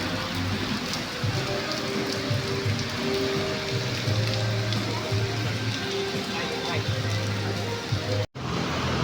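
Steady rain hissing on a surface, heard while sheltering at a shopping mall, continuous and fairly loud, with a low engine-like hum underneath and a brief dropout near the end.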